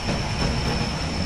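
A flying train in a video game rolls steadily along, giving a loud, continuous rumble with faint rail clatter and no pauses.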